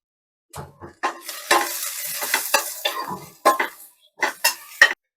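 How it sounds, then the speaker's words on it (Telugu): Peanuts frying with softened onions in a pan, sharp clattering stirs and scrapes in short bursts over a light sizzle, with quiet gaps between strokes. "ఇప్పుడు ఈ పల్లీలు యాడ్ చేసుకుందాం ఈ పల్లీలు కూడా వేగనివ్వాలి"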